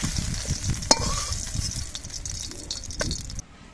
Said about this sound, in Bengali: এবার কড়াইতে আর একটু সর্ষের তেল দিয়ে দিচ্ছি